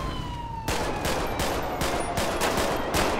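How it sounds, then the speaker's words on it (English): Rapid gunfire from a police video game, a dense string of sharp, loud shots cracking one after another close by after a brief quieter opening, with no talk over it. "Shots fired."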